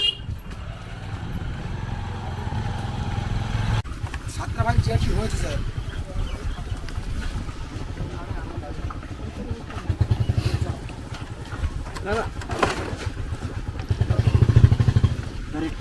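Motorcycles are carried by boat across the river at Patibunia ghat on Mousuni island, with a steady engine rumble and clatter under continuous talking throughout.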